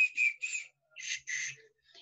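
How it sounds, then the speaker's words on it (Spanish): Flute plays a soft melody of short, airy sustained notes in two phrases separated by a pause, faint and clear with no talk. "sacó su flauta del bolsillo y de nuevo empezó a tocar una melodía todavía más bella"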